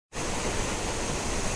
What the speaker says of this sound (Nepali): ओए झडना त यहाँ रहेछ नि